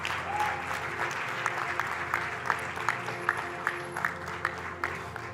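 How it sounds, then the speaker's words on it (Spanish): Members of a church congregation at a Spanish-language evangelical service clap, a fairly faint and scattered applause with a few sharper claps near the end and a low murmur underneath. "démosle un fuerte aplauso"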